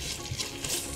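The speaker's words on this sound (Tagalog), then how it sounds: "Igisa ko siya sa coconut milk" Vegetables sauté in coconut milk for ginataang gulay with dilis, producing a brief, close sizzling hiss with a soft stirring scrape at the very end.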